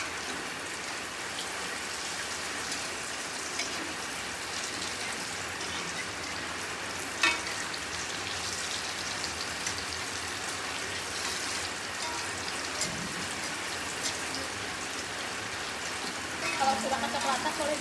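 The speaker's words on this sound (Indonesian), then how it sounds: "Kalau sudah kecoklatan boleh dibalik ya, Dit." Food fries in a pan with a steady, even sizzle and crackle lasting throughout, broken by a few brief clinks and scrapes.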